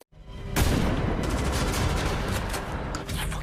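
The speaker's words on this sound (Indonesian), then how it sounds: "Setelah Bullet mendapat senjata, tiba-tiba saja dia langsung menembak Stuart dan Dana." Gunfire erupts in a movie scene as one character suddenly shoots two others, a dense, loud burst of rapid shots starting after a brief silence and continuing throughout.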